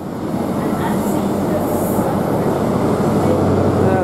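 A GWR Class 43 train departs a station platform, a loud, continuous low rumble of engine and rolling wheels with faint squeals and clicks, steady throughout.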